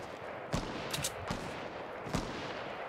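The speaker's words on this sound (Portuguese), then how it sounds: "eles estão trocando tiro com alguém" A firefight in a Fortnite match, with four or five sharp gunshots cracking out at uneven intervals over a constant rushing background, fairly distant and without speech.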